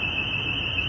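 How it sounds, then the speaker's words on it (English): An alarm rings on a street in the market town of Mold, North Wales, a steady, piercing high electronic tone that holds unbroken over a low murmur of street noise. "there's an alarm going off"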